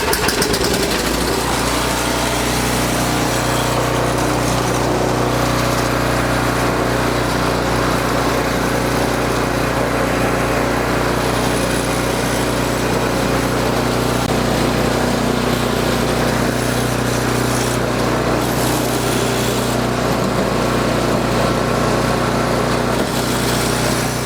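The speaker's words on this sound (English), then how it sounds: "I will press the drive lever and I will actually butt against the machine and hold it here." Murray snowblower engine running steadily near and loud, a continuous drone with the drive lever engaged and wheels spinning against the floor, no voices.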